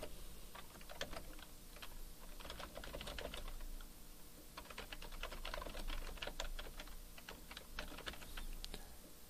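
Keys clatter steadily on a computer keyboard as HTML text is typed, with irregular bursts of quick taps and brief pauses between words, close and clear with no talking.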